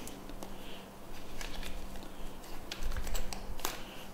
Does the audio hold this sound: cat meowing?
no